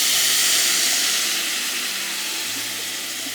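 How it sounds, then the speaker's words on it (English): Braising liquid from pulled pork poured through a strainer into a very hot pan, giving a steady bright hiss and sizzle that fades slightly as it goes, no talking. "I'm just very simply going to strain it right into our pan."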